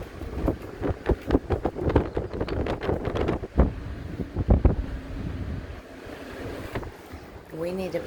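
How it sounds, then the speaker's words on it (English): Strong wind gusting outside on a New Hampshire mountain along the Appalachian Trail, heavy buffeting rumble and blustery surges hitting the microphone, with voices talking at times. "but it is crazy windy outside."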